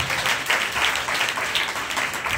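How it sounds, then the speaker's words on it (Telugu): A church congregation claps together during a sermon, a dense, steady patter of many hands with a slightly pulsing rhythm, filling the room at moderate loudness. "చప్పట్లు కొట్టి దేవుని నామమున మహిమపరచండి"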